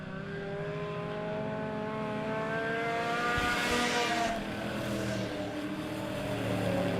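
Race cars lapping a Monett Motor Speedway oval, a loud, sustained engine drone that swells as the pack passes close by and then fades slightly, with no talk over it.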